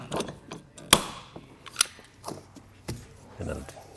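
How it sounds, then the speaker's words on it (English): Sharp clicks and snaps from a hand rivet gun setting rivets while fitting a Class 3 receiver trailer hitch on a 2016 BMW X5, a few close, irregular pops and crunches. "just load that into your gun and make sure the rivet gets inserted all the way into the hole"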